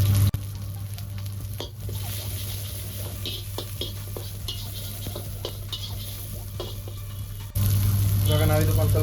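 Mint and coriander fry in hot ghee with a steady close sizzle, a spoon stirring and scraping through the pan in repeated strokes, and a low hum underneath.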